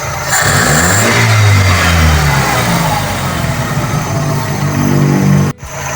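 A 2E carburetor engine revs up loudly at close range, its tone rising and settling into a raised idle set by the throttle positioner, then cutting off sharply near the end, with no speech.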